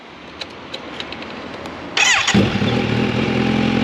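A retro Triumph Bonneville motorcycle engine cranks and fires up about halfway through, settling into a loud, throaty idle after some faint background noise.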